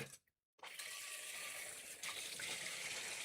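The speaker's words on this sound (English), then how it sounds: "I'm going to rinse it briefly." Tap water runs steadily over a metal pan being rinsed in a kitchen sink while cooking, a loud continuous gush that starts after a brief silence and carries on alone to the end.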